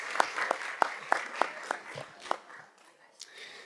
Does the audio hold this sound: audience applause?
yes